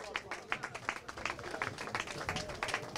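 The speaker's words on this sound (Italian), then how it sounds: "un doppio applauso ai delfini!" Applause for the Dolphins team at a Third Category football awards gala, a crowd clapping in a brisk, uneven patter that holds steady for a few seconds.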